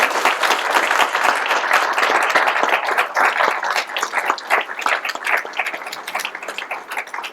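Audience applause after a talk, sustained dense clapping from a room of listeners that gradually thins out toward the end.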